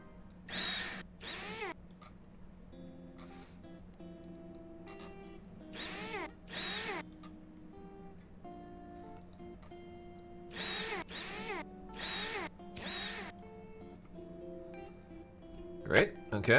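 Power tool in Rover Mechanic Simulator, a video game, buzzes in repeated short bursts as it backs rover screws out, with a faint steady hum between bursts and someone talking throughout.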